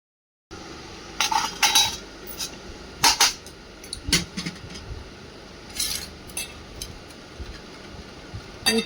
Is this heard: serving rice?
yes